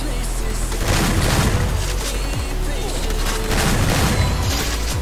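Bursts of AK rifle gunfire in the Free Fire mobile shooter game, rapid repeated shots in clusters with booming impacts, loud and continuous over game noise.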